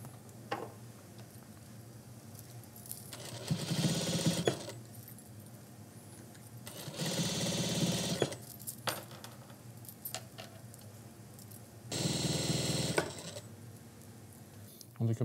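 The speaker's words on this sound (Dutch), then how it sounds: "dan stikken we hem hier binnen zo helemaal dicht" Sewing machine stitching a seam closed on a garment in a museum workshop, running in three loud bursts of a few seconds each, separated by quieter pauses.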